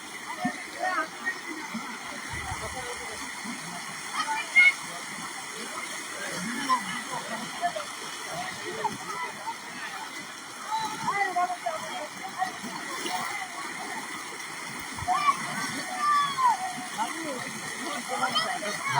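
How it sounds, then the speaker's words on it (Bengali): Floodwater runs and sloshes through a flooded village road in a rushing, gurgling wash, with voices talking over it at intervals. "বন্যায় কবলিত ইন্ডিয়ার পানির দেখেন অবস্থা"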